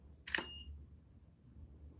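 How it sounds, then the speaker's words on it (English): A single camera click, likely the shutter firing at the end of a ten-second self-timer, is heard sharp and close against a quiet background, with no voices. "camera's on 10-second timer."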